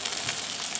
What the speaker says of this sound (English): Hear that nice sizzle in that butter.